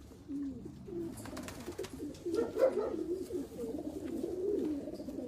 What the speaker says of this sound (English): So the third pigeon we see today, and can you tell us something about this pigeon?